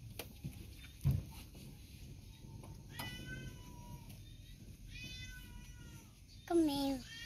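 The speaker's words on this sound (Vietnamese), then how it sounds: "Con mèo." A cat meows close by in an outdoor rural setting, giving several short, fairly quiet meows spread through the clip. A louder, drawn-out meow comes near the end, with faint background noise and a voice now and then.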